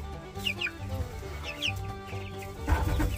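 Young chicks cluck and chirp in a chicken coop, a close, busy chorus of short soft clucks and high peeps overlapping continuously for a few seconds.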